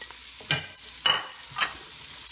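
Peppers and onions tipped into a pan of frying sausages, giving three separate bursts of sizzle and scraping about half a second apart over a quiet background of frying.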